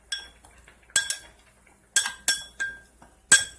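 A spoon stirs an annatto, cumin and coriander spice blend in a small container, giving several sharp clinks spaced apart against near silence.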